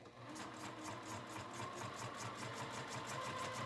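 Industrial sewing machine stitching cork, running at a steady fast rhythmic pace with a continuous mechanical whir and needle clatter, close by and fairly quiet, with no voices.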